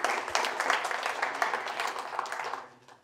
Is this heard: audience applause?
yes